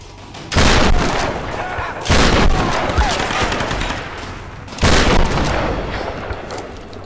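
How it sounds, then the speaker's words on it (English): Shotgun blasts boom out during Tomb Raider combat, three loud close shots spread a couple of seconds apart, each followed by ringing reverberation, with a voice talking faintly in the background. "Good shotgun round."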